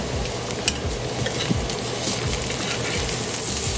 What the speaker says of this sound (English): Allow to fry for a few minutes on one side before flipping over.